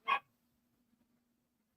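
A single short dog bark startled by fireworks, loud and close at the start, followed by near silence with a faint steady hum.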